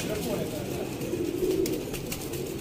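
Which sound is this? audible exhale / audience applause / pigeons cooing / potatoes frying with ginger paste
pigeons cooing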